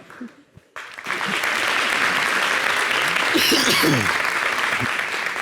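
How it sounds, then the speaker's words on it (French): Studio audience applause on a French-language TV talk show, swelling after a brief quiet start into sustained, dense clapping that fills the room, with a few voices and cheers mixed in. "Merci de lui faire des applaudissements à la hauteur de son talent."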